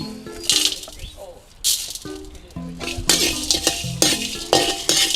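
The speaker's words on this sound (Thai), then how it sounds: "ลูกจันทร์พริกแห้งเม็ดใหญ่พริกแห้งเม็ดเล็ก แม่จะคั่วแล้วนะ" Dried nutmeg with large and small dried chilies tumble and rattle in a pan over low heat, giving scattered clinks and scraping stirs, with a voice talking over them.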